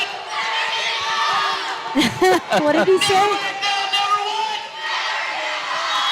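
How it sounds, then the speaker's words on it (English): A volleyball crowd cheers after a point in a college match, with loud sustained roaring and whoops from the stands and announcers talking over it. "it's a point for the Bulldogs. And a violation against the Rangers there, and it's 26-25, and the crowd tells you how they feel"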